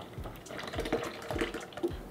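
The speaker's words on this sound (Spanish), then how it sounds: "en el vaso de la licuadora vamos a poner 2 latas de leche evaporada" Two cans of evaporated milk pour into a blender jar, a close, steady liquid stream with gentle glugging pulses.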